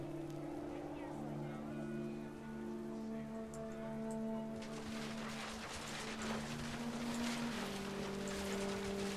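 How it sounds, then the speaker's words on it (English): Steady synthetic music tones play in the video game What Remains of Edith Finch, then heavy rain sweeps in partway through and keeps pouring loudly to the end. "The rain came down in buckets then"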